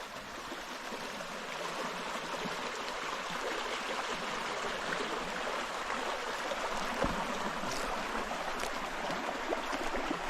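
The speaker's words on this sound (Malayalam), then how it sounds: "പ്രകൃതിയുടെ സംഗീതം കേട്ടോ, ഈ പുഴ ഒഴുകി വരുന്നേ." Steady rushing of a river flowing over stones in a scenic outdoor spot, a continuous moderate-level wash of water with no talking and only a couple of faint brief ticks near the end.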